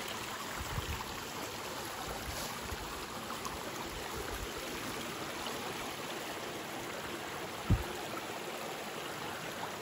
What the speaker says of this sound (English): Got near that running water.